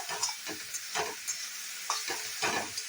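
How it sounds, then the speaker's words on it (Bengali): Semolina for spicy upma sizzling in a pan with irregular bursts of crackle as it is stirred, short scraping pulses over a quiet frying hiss. "যেরকম ভাজা ভাজা হচ্ছে"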